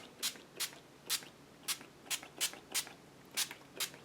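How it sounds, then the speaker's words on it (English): Short hissing pumps from a spray bottle spraying ink, about ten quick bursts in an uneven rhythm, close and fairly quiet. "I'll spray my tag as well"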